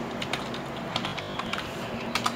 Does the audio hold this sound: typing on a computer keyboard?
yes